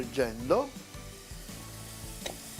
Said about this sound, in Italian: La nostra cipolletta che se ne va friggendo